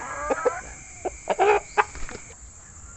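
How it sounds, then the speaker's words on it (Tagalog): A Rhode Island Red rooster gives a few short, close clucks and squawks in quick bursts against a quiet background. "So ito po yung aming Rhode Island Red na lalaki. Tandang."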